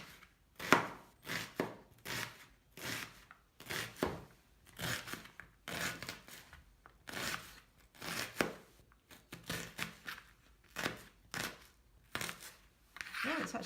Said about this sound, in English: So I'm going to peel my onion and chop it.